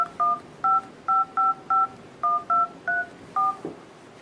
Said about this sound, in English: You can dial something manually.